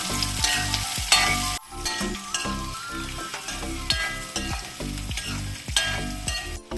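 Chopped onion and ginger sizzle loudly in a pan while a spoon stirs and scrapes through them again and again in an uneven rhythm, close up with no talking.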